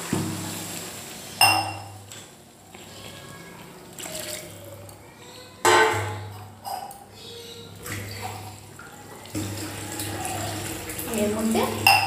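Water is poured into a pot of Bengali chicken kosha with potatoes that have already been browned in oil, giving a few loud splashing bursts and clinks against the pot, with a steady low hum behind them.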